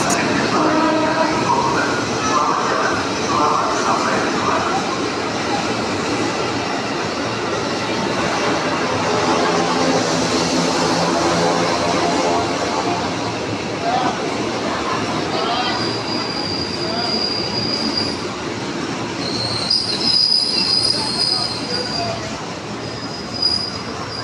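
A commuter train to Bekasi rumbles and clatters at Tanah Abang station, wheels squealing against the rails, with platform chatter in the background.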